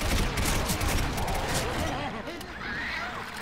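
Rapid, dense bursts of gunfire from the video game Left 4 Dead 2 crackle loudly and continuously, overlapping into a near-constant volley with voices mixed in.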